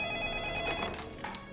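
A telephone bell rings in steady, repeating electronic tones at moderate volume, heard alone with no talking.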